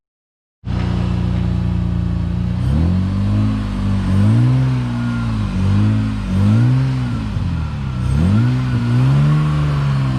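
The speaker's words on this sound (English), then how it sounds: "So excited that the truck sounds like it's gonna die." Loud, rough engine of a truck at a drift event at Shannonville, idling unevenly then surging through several lumpy revs that rise and sag, the motor sounding strained and close.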